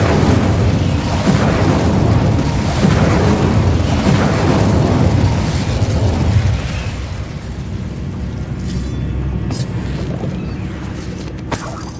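Incendio fire spell cast in Hogwarts Legacy, a loud roaring whoosh and rumbling burst that holds steady for several seconds, then drops to a lighter crackling tail.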